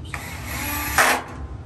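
A power drill with its torque set low drives small bolts into the back of a Miele T9820 gas dryer: a short, close whirring burst with a sharper spike near the end.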